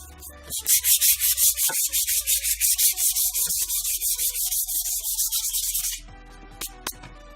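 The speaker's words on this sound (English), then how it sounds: "So this is just a small turning sanding pad." Close, steady rhythmic scraping of a small spinning fine-grit sanding pad rubbing rust off a metal lathe bed, repeated strokes for about six seconds, then quieter scratchy handling noises.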